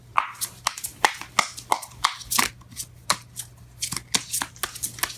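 Tarot cards being shuffled in quick bursts, with repeated crisp riffling clicks and soft slaps close up, the deck springing apart at moments; a low steady hum runs underneath.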